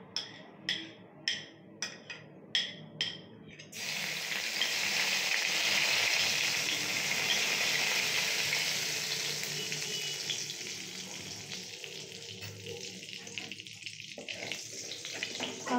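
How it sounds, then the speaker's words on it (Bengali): Mustard seeds are dropped into hot oil in a wok after frying rohu fish, first a few sharp thumps, then a steady, fairly loud sizzle that slowly fades, heard close with no talking. "এরপরে মা এখানে সর্ষে ফোড়ন দিচ্ছে।"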